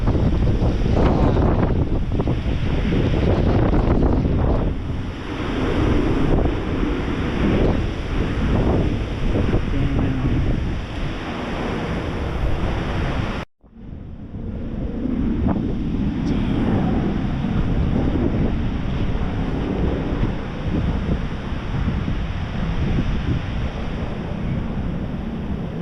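Hurricane Ian wind in Orlando, Florida, roaring and buffeting loudly against the microphone in continuous rumbling gusts, with a brief break midway before the heavy blowing resumes.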